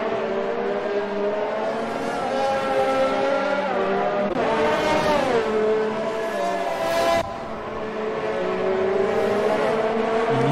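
Formula 1 race cars scream around Albert Park at the Australian Grand Prix in Melbourne, a continuous high-pitched engine wail rising and falling through gear changes, loud and near, with a car sweeping past midway.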